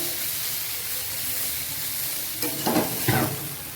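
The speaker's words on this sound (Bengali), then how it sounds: "আমার মশলাটা ডাটাটা একসঙ্গে ভাজা ভাজা হয়ে গেছে" Spiced pumpkin stalks sizzle in hot oil in a pan for a prawn curry, a steady near hiss that swells with two short bouts of scraping, clattering stirring toward the end.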